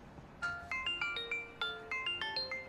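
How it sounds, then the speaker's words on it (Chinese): A mobile phone rings in a quiet room, playing a bright electronic melody of evenly spaced chiming notes that repeats steadily and clearly, with no voices over it. "你电话。"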